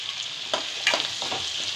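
A slit green chili goes into onions frying in oil for a goat intestine pepper fry, then gets stirred. There is a continuous close sizzle with a few scraping stirs of a spoon against the pan.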